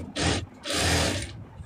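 A tailor's sewing machine stitches through fabric in two loud whirring bursts, a short run followed by a longer one, with a brief pause between.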